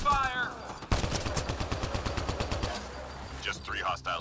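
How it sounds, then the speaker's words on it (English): Heavy gunfire in the Mass Effect: Andromeda multiplayer game: after a brief radio-like voice, a loud sustained burst of rapid automatic fire pounds for about two seconds, then fades into electronic effects and further voice chatter. "Heavy fire!"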